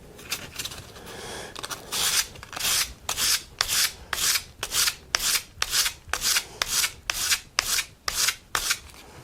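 A Stanley 45 or 55 plane iron cutter rubbed on 400 grit abrasive in a long series of rhythmic back-and-forth strokes, close and steady, each pass a bright rasping scrape; no voices.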